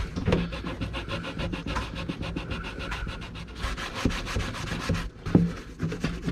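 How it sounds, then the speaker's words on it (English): Soapy scrubber rubbing over a vintage lunchbox, close and fairly quiet, with rhythmic back-and-forth scrubbing strokes and a few small knocks, no talk. "So we're gonna put a little soap on my little scrubber here."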